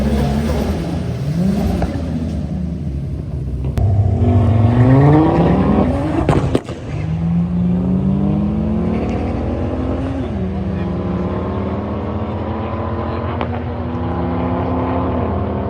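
Ford FG XR6 Turbo at a drag strip, engine revving and climbing through gears on a hard handbrake launch with axle tramp, loud and close, with a sharp jolt partway through and voices faintly underneath.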